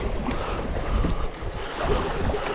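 A canoe paddled along a river, with water swishing and lapping around the hull under steady wind rush, and soft paddle strokes dipping through the current.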